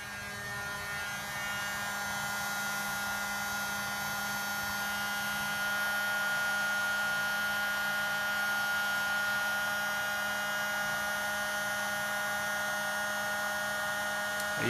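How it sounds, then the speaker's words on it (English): A heat gun blows steadily up close to warm sealing wax, giving an even, continuous whirring hum with a high whine that holds for the whole stretch and never pauses. "so I now use a heat gun instead"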